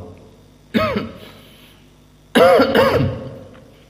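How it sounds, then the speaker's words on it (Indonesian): Two loud, close coughing bursts from a man, the first short near the start and the second longer and rougher a moment later, with quiet room tone between. "Kembali lagi batuk."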